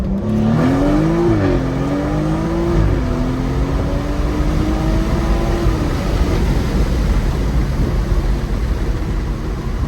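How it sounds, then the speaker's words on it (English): A BMW M240 in Sport Plus mode with the automatic transmission, heard from inside on a late-night drive as the engine pulls hard, its drone rising in pitch, then dropping at a firm upshift before climbing again, loud and continuous. "With shifts hit a little harder in Sport Plus and Sport transmission mode in auto."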